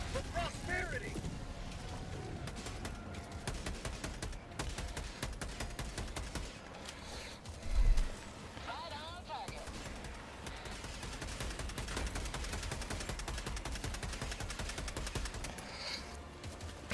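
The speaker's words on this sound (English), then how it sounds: "The railgun feels really good." Railgun fire in Helldivers 2 with a dense, continuous stream of gunfire and explosive game combat, one louder bang standing out near the middle, all under steady game noise.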